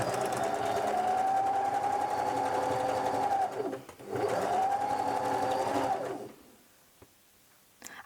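A sewing machine runs a seam on a lined tote bag with a stitch length of 3, two steady whirring bursts close up separated by a short pause, then it winds down to near quiet.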